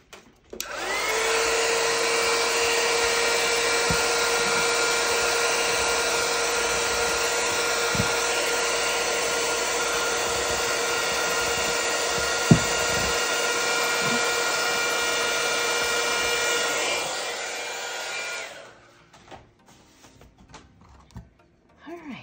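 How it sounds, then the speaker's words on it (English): Heat gun blowing for about eighteen seconds as a decal is shrunk onto a tumbler, a steady loud whirring drone that starts abruptly and then cuts off, leaving faint handling noises. "I'm gonna use my heat gun so it can almost like shrink wrap it around the curve"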